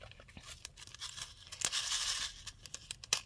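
Tape ripped and pulled in a few quick, crisp bursts while a paper shaker card is assembled, close and fairly quiet, with small crinkles and taps between the tears.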